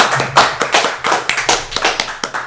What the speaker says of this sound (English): give them a round of applause anyway for putting in this video, right?